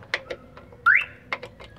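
A car alarm on a Mitsubishi Adventure GLX gives a few short, close chirps and one rising electronic sweep, mixed with clicks from the installation work.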